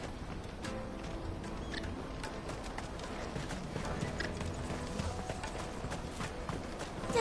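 Horse hooves clip-clop at a steady walking rhythm in Final Fantasy XVI, a continuous and fairly close patter over a dense, even game ambience.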